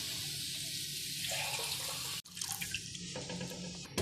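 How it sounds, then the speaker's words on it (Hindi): Water, three glasses' worth, is poured steadily into a cooking pot of golden fried garlic for making rice, a continuous close splashing stream with a brief pause midway. "अब हम इसके अंदर 3 गिलास पानी ऐड करेंगे"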